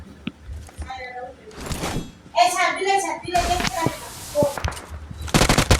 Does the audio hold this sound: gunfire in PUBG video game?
yes